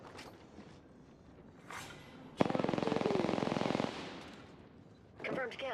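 Automatic weapon fire in Apex Legends, a loud, rapid burst of evenly spaced shots lasting over a second, preceded by quieter game sounds and followed by fainter noise.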